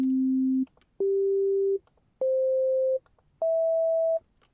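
Four sustained electronic tones from a Casio VZ-1 synthesizer's oscillator in ring mode, each a step higher than the last, with short silent gaps between them, clean and loud.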